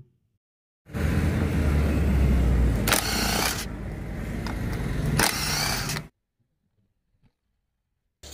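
Ingco cordless impact wrench rated at 850 Nm loosening bolts, one sustained burst of loud rattling hammering lasting about five seconds with two sharper surges inside it, then abrupt silence.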